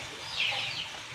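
A brief, faint cluck from a chicken over quiet background noise, a single short call.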